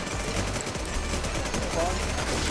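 Gunfire in the online shooter Warz Infestation crackles in a dense, rapid string of shots at close range, under a steady game soundscape.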